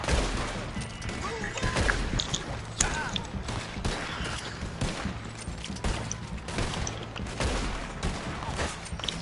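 Machine gun fire in a PS4 video game, dense rapid bursts of shots rattling continuously at steady loudness, with faint voices underneath.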